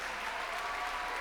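A church congregation applauding the band, a dense, even wash of many hands clapping at once that holds steady throughout the short stretch.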